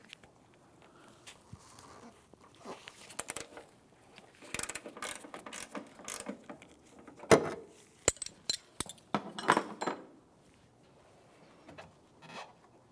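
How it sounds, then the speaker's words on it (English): Two 13mm wrenches work a hood hinge bolt on a 2000-2006 Chevrolet Tahoe, giving quiet metallic clicks and ratcheting taps that grow into a cluster of sharper clanks mid-way before fading out. "Now let's continue on to the hinge bolt right along here. For this, we're going to continue on with our 2 13mm wrenches."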